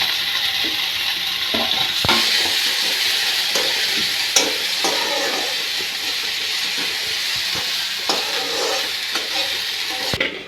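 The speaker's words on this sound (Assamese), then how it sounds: "তো ইয়া নিমখ সানি দিয়া শাকখিনি ঢালি দিব" Salted khutora saak leafy greens fry and get stirred in a hot pan, giving a steady loud sizzle with occasional scraping clicks of a utensil, close up and without talk.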